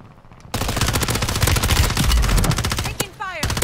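Dense rapid gunfire from the video game Warzone, a sustained burst of automatic shots loud and close, ending with a brief gap and a few scattered rising electronic tones.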